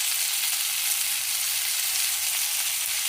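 Ivy gourd (tondli) cooking in a hot pan gives a loud, steady, close sizzle, an even hiss of frying with no pauses and no voices.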